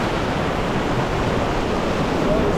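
Whitewater on the Truckee River pours over rocks into a small hole, a dense, steady rushing roar close by with no break and no voices.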